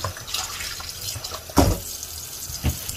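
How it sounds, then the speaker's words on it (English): Vinegar running through a cut-open raw chicken held under water at a sink, a steady close stream of liquid with a couple of splashy bursts. "Let me just run vinegar through it real quick."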